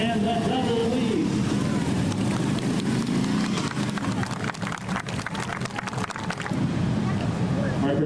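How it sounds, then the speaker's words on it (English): Ontario Provincial Police precision team motorcycles riding in close formation outdoors, a loud continuous engine roar with wind buffeting, under a voice talking throughout. "2 riders on their motorcycles moving in close harmony."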